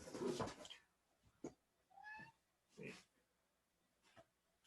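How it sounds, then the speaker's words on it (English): A cat meows in a room, giving a short rising call followed by a few faint, scattered noises and soft bumps, quiet overall. "That's the nicer cat."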